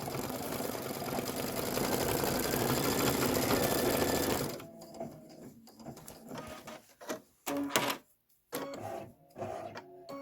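An embroidery machine stitches a candy corn flower fill, a loud, dense, rapid mechanical chatter running close for several seconds before stopping, followed by sparse clicks and handling noises.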